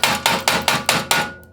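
A coffee roaster lid opened after Turkish coffee beans finish roasting gives six evenly spaced, loud metallic clanks in quick succession, each ringing briefly before the next, then fades out.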